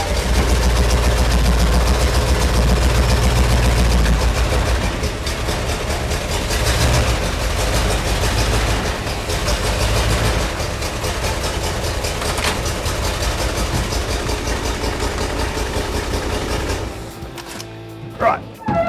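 Ford F100 pickup truck engine running at a steady idle, a loud, continuous low rumble that holds for most of the stretch before dropping away near the end.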